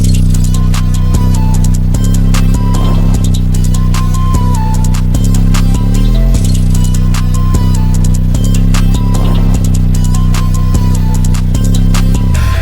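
A full hip-hop beat plays loud and steady, with heavy booming bass hits under bright hi-hats and a looping melody. No voices.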